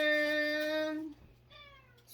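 A cat meows loudly and close for about a second, with a long harmonic call, then a second, fainter meow follows after a short pause.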